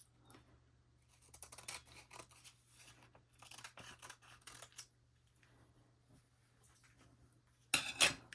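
Scissors snip through sheet of transfer paper for polymer clay keychains, a series of quiet crisp cuts through the middle, then a louder sharp snip near the end.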